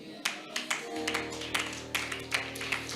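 A congregation claps during a church sermon: fairly steady, sharp claps repeating at a quick rhythm, moderately loud and somewhat distant, over a low sustained musical hum.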